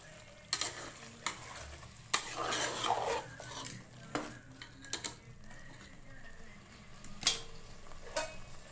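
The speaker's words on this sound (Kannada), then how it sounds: "ಮಸಾಲೆ ಹಾಕೊಂಡು ಈ ಥರ ಒಂದು ಫ್ರೈ ಮಾಡ್ಕೊಳ್ಳೋಣ" A thick ground masala paste sizzling in a hot pan while a metal spoon scrapes and knocks against it in irregular strokes, close up.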